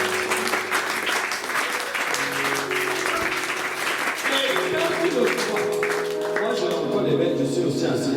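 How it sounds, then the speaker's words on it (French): Audience applause at a French-language church sermon, a steady wash of clapping running the whole stretch with organ or keyboard tones sustained underneath and voices mixed in. "Tu peux l'acclamer, ma soeur"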